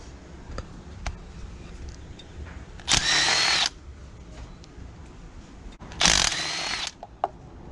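A power tool with a 5/8 spark plug socket whirs in two short bursts, each under a second long, while loosening spark plugs on a Chevy Cruze, with quieter mechanical clicks and clatter between the bursts.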